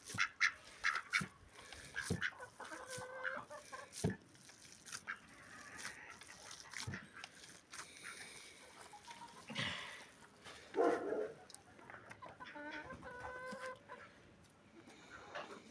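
A flock of backyard chickens clucking and squawking nearby, with overlapping calls, some sharp and some drawn out, scattered irregularly over a quiet background.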